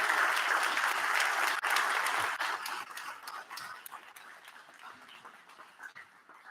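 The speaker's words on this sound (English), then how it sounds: "Lyudmila Kazak, with a big round of applause, ladies and gentlemen." An audience at a human rights lawyers' award ceremony applauds steadily, a broad wash of clapping that gradually thins and softens toward the end.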